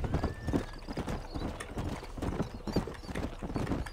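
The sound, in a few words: horse galloping in Red Dead Redemption video game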